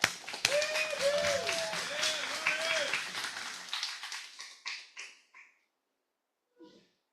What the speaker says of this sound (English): big round of applause for our president, Ryan Thompson.